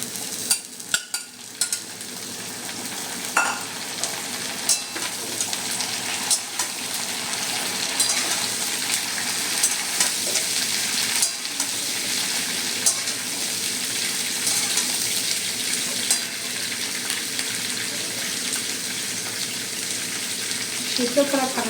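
Vegetable stalks sizzle and fry with potatoes in a pan for a Bengali stalk chorchori, a steady broadband crackle with occasional stirring scrapes throughout, fairly close and continuous.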